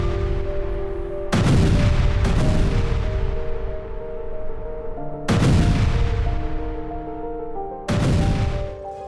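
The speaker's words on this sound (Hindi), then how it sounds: "टैंकों से यूक्रेनी मोर्चों पर गोलाबारी की गई" Tanks shell Ukrainian front-line positions: four heavy booms land a few seconds apart, each a loud blast with a long, rolling decay, over a constant low rumble.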